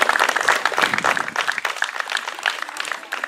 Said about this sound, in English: I'd like all of us to give our campers a round of applause.